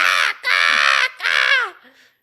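A woman imitates a crow's caw with her voice: two long, harsh, nasal calls close to the microphone, followed by a faint short third call.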